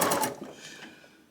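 A sewing machine stitching quilt strip sets, a brief rapid whirring run that fades out within about a second.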